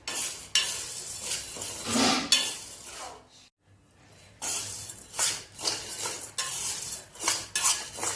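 Sago and potato papad frying in hot oil, a steady sizzle broken by repeated scrapes and clinks of a spatula stirring in the pan, loud and close, with one brief pause.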